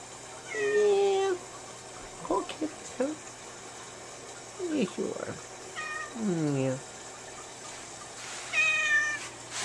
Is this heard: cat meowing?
yes